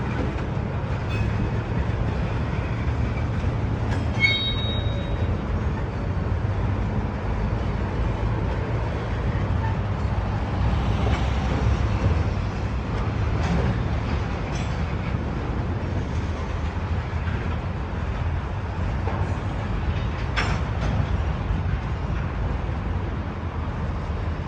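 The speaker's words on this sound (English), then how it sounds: "Here comes the locomotive! Here coming your way!" CSX locomotive and freight cars rolling through a hump classification yard at Radnor, a steady low rumble with faint wheel clatter and occasional squeals, continuous and moderately distant.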